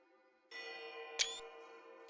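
Bells ring in Pillars of Eternity II: Deadfire, a sustained chorus of layered metallic tones that swells in and keeps ringing, with a sharp bright strike near the middle and another at the end.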